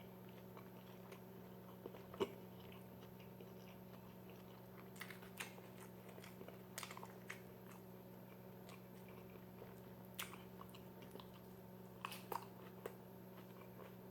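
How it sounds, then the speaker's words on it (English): A Burger King Double Whopper with lettuce is eaten, with sharp crunchy bites and chewing clicks scattered over a steady low room hum. "That extra crunch from the lettuce."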